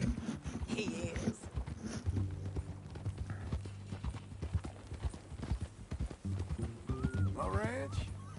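Horse hooves clip-clopping steadily in the Red Dead Redemption video game, a continuous close rhythmic clatter with occasional whinny-like calls, under talking voices and a faint music bed.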